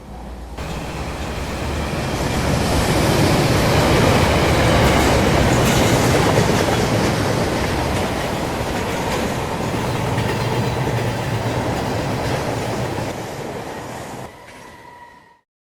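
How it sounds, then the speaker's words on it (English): Freight train rolling past close by, a loud steady roar of wheels on rails with clickety-clack and squealing wheels, building up and then fading away at the end. "Hop on this train and start your next devious journey."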